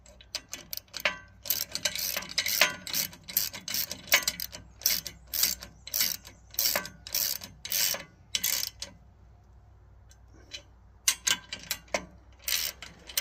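Bolts being tightened by hand with a ratchet while a Woodland Mills HM130MAX sawmill is assembled, in bursts of rapid clicking strokes separated by short pauses, close and clear.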